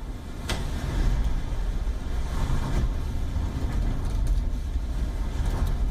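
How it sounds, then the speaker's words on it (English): Windows rattling in typhoon winds in Hong Kong, a steady broadband roar with sharp intermittent knocks and clatters, no voices. "these windows behind me are rattling really quite seriously"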